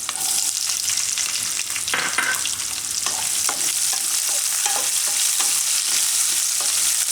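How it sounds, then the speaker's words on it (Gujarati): Curry leaves and chopped onion fry in hot oil for green chickpea pulao, a steady, loud sizzle running throughout with occasional sharp stirring clicks and scrapes; no one speaks. "હવે લીમડો નાખીશું અને ડુંગળી."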